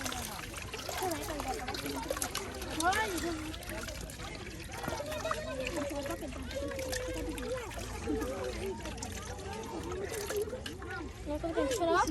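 Water trickles and splashes steadily as fish are washed by a riverbank, a close, soft sound that runs under continuous talking.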